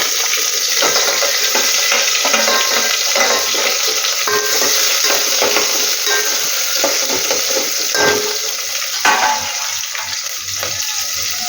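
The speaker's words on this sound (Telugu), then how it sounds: "కొంచెం సాజీరా వేసుకొని పచ్చిమిర్చి, ఉల్లిపాయ ముక్కలు" Caraway seeds, green chillies and chopped onion frying in oil, a dense continuous hiss and crackle heard close up, with faint stirring knocks mixed in and no one speaking.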